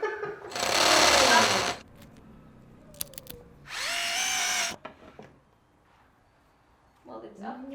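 A power drill bores into a house wall during a handyman job, sounding in two loud sustained whirring bursts of about two and two seconds, separated by quieter knocks and clicks, with brief voices near the end.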